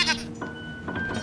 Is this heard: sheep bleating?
yes